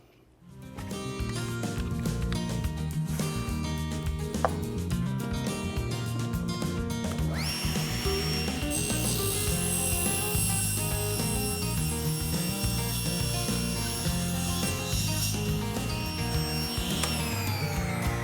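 A table saw crosscuts plywood on a sled, its motor running steadily and loudly throughout, with a sharp high whine as the blade bites into the sheet around the middle and holds through the cut.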